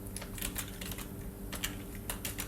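Typing on a computer keyboard while writing code, with quick, light key clicks in irregular bursts close to the microphone and a faint steady background hum.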